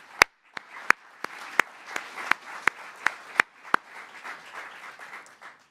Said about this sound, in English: one more time I want us to clap for her right now.